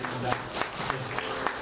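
A church congregation applauds its Christmas play performers, steady crowd clapping with a few louder individual claps recurring at regular intervals, voices murmuring underneath.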